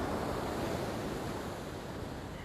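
Ocean surf rolling onto a beach at night in Kalbarri, Western Australia, a steady, loud wash of breaking waves with wind noise buffeting the microphone and no speech.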